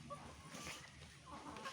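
Chickens cluck softly in a yard, faint and continuous low chatter at a distance, with no one speaking over it.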